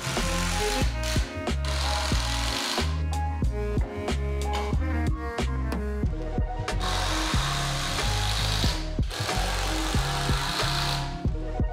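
Loud, continuous power drill noise with bursts of whirring and rattling, driving 2.5-inch screws into wooden workbench frame supports, repeated over and over with no talking.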